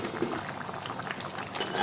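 Kerala-style duck curry with potato pieces simmering in a pot, a steady close bubbling and sizzling that fills the short moment.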